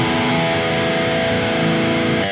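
A heavily distorted electric guitar chord rings out, thick and buzzing with sustain, loud and steady throughout.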